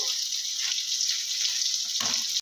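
Water poured into a hot pan of spice paste for an egg curry, giving a steady loud hiss and sizzle that ends abruptly, with a brief burst of clatter near the end.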